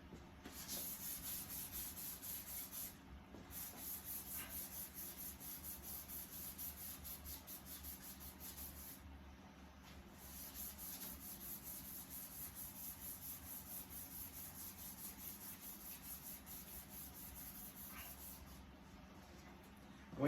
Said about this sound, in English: we got our sandpaper wet and we rub it back and forth on the headlight